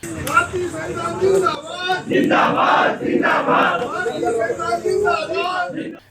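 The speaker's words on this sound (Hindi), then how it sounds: "थाने के अंदर जमकर नारेबाजी हुई।" A large crowd of Bhim Army members, Buddhist community members and Ambedkar followers shouts slogans in unison inside a city police station, loud, rhythmic chanting in repeated waves that fills the space, with overlapping voices throughout.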